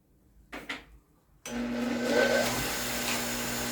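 A bench polishing machine spins a sisal wheel loaded with brown compound while a knife is buffed to remove scratches, giving a steady, loud whirring drone that starts abruptly after a brief quiet lead-in with a couple of soft knocks.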